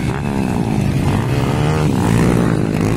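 Underbone 2-valve motorcycles race a final at Batangan, Valencia City, their engines screaming loud and close in a continuous high-revving whine that surges and holds steady throughout.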